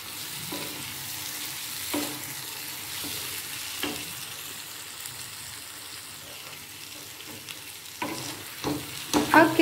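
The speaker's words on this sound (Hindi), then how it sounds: "ये मैं इसे डाल दूंगी इस तरह, और इनको अच्छी तरह हम मिक्स कर लेंगे" Boiled jackfruit stirred into a spice masala in a pan for a jackfruit curry: a low, steady sizzle with scattered scraping strokes of the spoon, growing busier and louder at the end, no talk.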